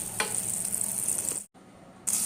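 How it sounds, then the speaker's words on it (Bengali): Butter mixed with a little white oil melting in a pan gives a steady, close hiss with a soft crackle. It cuts out briefly near the end, then comes back just as strong. "মাখন নিচ্ছি প্যানে মাখনের সাথে সামান্য সাদা তেল মিশিয়ে নিলাম এবার মাখন যতক্ষণ না গলে ততক্ষণ অপেক্ষা করলাম"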